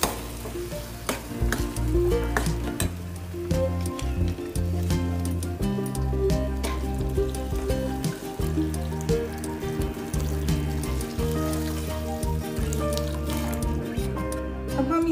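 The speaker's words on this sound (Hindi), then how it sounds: "पहले इसको मिक्स करेंगे।" A spoon stirs whole masoor lentils with added water in a pan for a Maharashtrian dhaba-style akkha masoor fry, producing repeated close scraping and wet swirling sounds in an irregular rhythm with occasional clinks.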